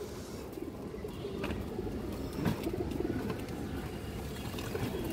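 Pigeons with striking eyes, old bloodline birds kept for sale, cooing in a low, throaty rumble, several birds overlapping near and far in a continuous loft chorus without speech.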